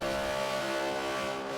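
A NASCAR race car in a video game at Homestead holds a loud, sustained high-pitched engine drone, dense with harmonics and steady from start to finish without talk.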